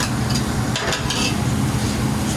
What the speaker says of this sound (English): saute that until they get a little soft